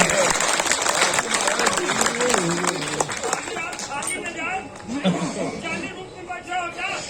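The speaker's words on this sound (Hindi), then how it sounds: "ताली बजाइए, एनर्जी मिलती है" Audience clapping and crowd applause at a live comic poetry recital at the Magh Mela in Prayagraj, a steady burst of hands mixed with voices and speech over the top, continuing throughout.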